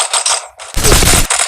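Gunfire from the mobile shooter Forward Assault on Android: loud bursts of rapid automatic fire, with a short gap near the middle and a heavier, denser volley in the second half, all close and without talk.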